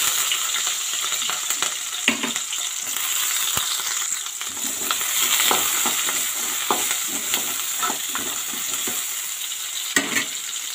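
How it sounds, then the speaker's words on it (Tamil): Onions sautéing in hot oil in a kadai while preparing mutton fry, a steady dense sizzle throughout with scattered scrapes and stirring clatters, close and fairly loud, no talking. "வெங்காயம் நல்லா வதங்கிடுச்சு."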